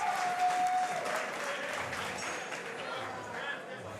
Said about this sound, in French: Énorme respect pour les deux combattants et la foule acclame.